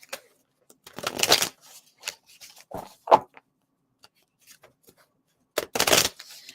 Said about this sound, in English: Now I'm shuffling them up a little bit more than usual